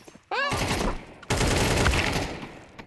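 AK rifle firing in a shooter video game: two loud bursts of rapid automatic fire, the first after a short rising tone, the second longer and fading out.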